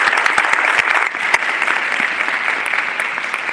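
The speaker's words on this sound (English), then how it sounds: "another big round of applause" An audience at a Black History Month event honoring Dr. Clyde Foster gives a big round of applause, a dense, steady wash of many hands clapping together, full and close, with no break throughout.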